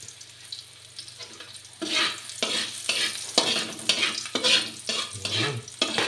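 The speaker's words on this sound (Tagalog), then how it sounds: "Bawang. Ayan. Pa-brown natin ng konti guys para masarap," Garlic sizzles in a hot pan while being stirred, loud rhythmic scraping strokes over a steady crackle, starting quieter then growing busier, with no talk.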